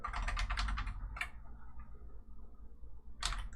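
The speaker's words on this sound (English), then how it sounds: "Then we can type Clipper." Typing on a computer keyboard, a quick burst of close key clicks, then a pause and a second short burst at the end, quiet and without talk.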